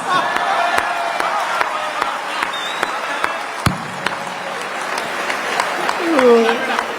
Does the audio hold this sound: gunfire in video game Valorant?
no